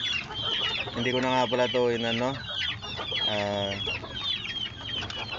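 Hens in a small backyard coop clucking close by in drawn-out, rising calls, while someone talks over them.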